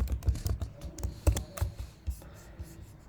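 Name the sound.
typing code on a computer keyboard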